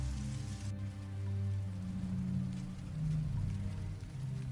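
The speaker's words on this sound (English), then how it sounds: "Sound of the rain muted, now inside." Steady, muffled rain heard from indoors, a continuous soft hiss with low rumble, no voices.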